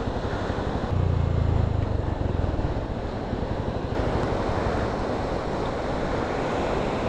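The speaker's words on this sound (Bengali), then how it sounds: "জাস্ট দেখো কি সুন্দর ঝর্ণাটা" A mountain waterfall of blue snowmelt water in Sikkim roars as a constant broadband rush, loud and steady throughout, with some wind buffeting on the microphone and no voices.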